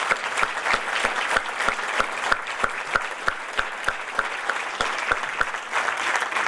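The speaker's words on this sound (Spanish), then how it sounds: "Les pido en primer lugar un aplauso para la señora Sandra Russo" An audience at a public event in Mar del Plata claps for Sandra Russo, a sparse, rhythmic applause with distinct individual claps close by, steady over several seconds.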